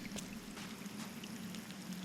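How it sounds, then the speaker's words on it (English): Water flows in a video game's dark environment, a soft continuous pouring and trickling sound heard faintly in the background without speech. "That's water."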